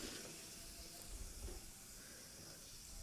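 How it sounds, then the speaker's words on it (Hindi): Cumin seeds crackle and sizzle in hot mustard oil in a kadhai, a steady broadband hiss with faint scattered pops running evenly throughout at moderate distance, no one talking. "तेल बिल्कुल अच्छे से गर्म हो जाएगा तब इसके बाद हम इसमें डालेंगे जीरा 1 चम्मच। इसको चटकने देंगे"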